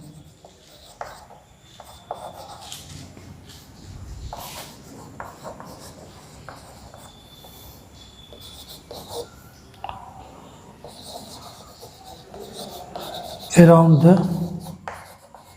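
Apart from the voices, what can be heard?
teacher writing on a board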